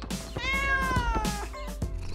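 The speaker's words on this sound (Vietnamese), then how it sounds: "Mèo con cũng thích chúng nữa." A kitten meows in a couple of long, drawn-out, rising and falling calls, close and clear over a steady low background hum.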